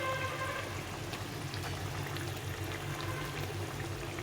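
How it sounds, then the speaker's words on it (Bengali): Bata fish and tomato curry gravy boils in a pot, giving a steady close bubbling and simmering wash with faint crackling ticks throughout, with no voices. "ঝোলটা ফুটে উঠেছে।"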